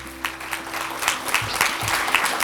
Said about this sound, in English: I think we need to give this a big applause